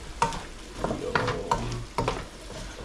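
Sautéing in a pan for pinangat na pampano, with repeated spatula strokes and clacks against the pan over a steady low sizzle, close and moderately loud.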